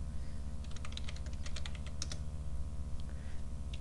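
Quick, close keystrokes on a computer keyboard as an email address is entered, a light irregular patter of clicks over a low steady hum.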